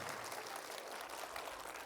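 Schoolchildren clapping for themselves at an inter-school sailing event: a brief, even burst of many small hands applauding together, steady and moderately loud throughout, with no voices on top.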